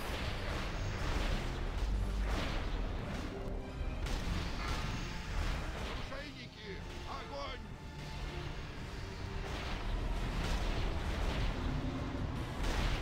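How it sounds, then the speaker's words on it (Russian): Cannons fire during a multiplayer online game raid, with heavy booms and crashes piling into a loud, almost continuous barrage while players talk over voice chat. "Давайте, разряжайте пушки."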